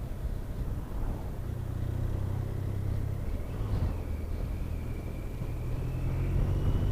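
A motorcycle riding on a road holds a steady speed through a bend, its engine a continuous low drone with wind rush, close and loud throughout.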